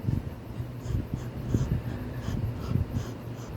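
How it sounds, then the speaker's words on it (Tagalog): A dog pants rapidly and rhythmically close by, with quick wheezy breaths repeating steadily and no talking over it. "Hingal na yan."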